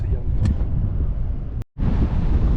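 Loud, low buffeting wind roars against the microphone continuously at Laguna Verde on the Altiplano, briefly dropping out for a moment before returning just as strong.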